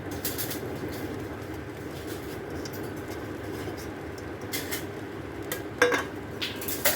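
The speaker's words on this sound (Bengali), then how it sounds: "ভিজে রাখা সবজিগুলো এখন দিয়ে দেবো।" Soaked vegetables tipped into a cooking pan and stirred, a soft steady hiss under occasional faint clinks and scrapes of a utensil against metal, fairly quiet and close, with no voices.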